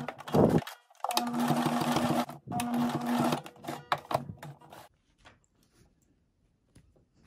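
A sewing machine stitches down a patch pocket in a quick run of rapid mechanical whirring bursts with brief stops between them, close up, then falls quiet with only faint handling clicks.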